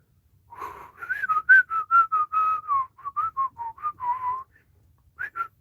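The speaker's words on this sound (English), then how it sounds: "I just tell myself to whistle, even though I can't." A person whistles a lively, bouncy tune of many short notes in quick runs, with a brief pause near the end before two more notes, alone and close.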